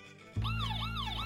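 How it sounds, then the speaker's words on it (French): A wailing fire truck siren from a children's cartoon starts abruptly and sweeps up and down, loud and close, over a low steady engine drone. "C'est un camion de pompiers."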